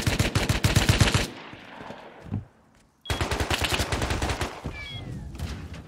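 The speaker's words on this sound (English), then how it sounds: "No, he shot at me." Gunfire in the survival game Rust crackles in rapid, loud bursts of shots, stops briefly for a near-silent pause, then resumes as another sustained volley.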